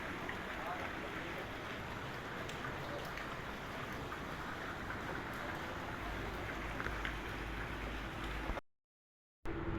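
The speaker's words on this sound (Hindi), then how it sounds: "देखिएगा कितनी बारिश हो रही, इतनी बारिश हो रही, बहुत ही ज़्यादा" A steady, dense wash of rain falls continuously, fairly soft and even, before cutting to silence near the end.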